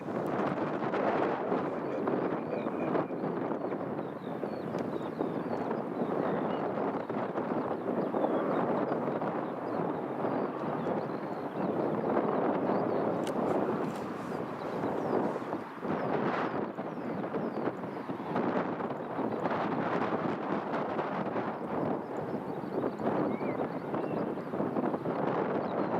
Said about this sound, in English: the wind has suddenly just picked up here